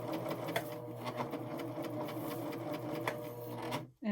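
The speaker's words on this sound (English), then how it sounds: "then it's just a matter of stitching down" A Pfaff Admire Air 7000 sewing machine stitches piping cording into fabric, a steady close whirring hum with fast rhythmic needle ticks that runs continuously and then stops abruptly at the end.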